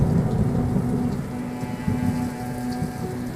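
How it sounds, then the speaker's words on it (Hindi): Heavy rain pours steadily with low rolling thunder rumbling beneath it, a dense continuous wash of sound with no voices. "बारिश हो रही थी"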